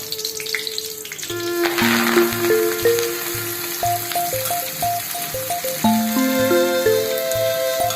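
Steady sizzling and crackling of chopped spinach frying in a hot pan, continuous and close, with faint clinks and stirring underneath.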